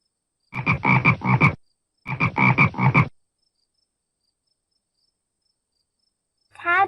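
A frog croaks in two close, rapid bursts of rattling pulses separated by a brief gap, followed after a long silence by a short final call.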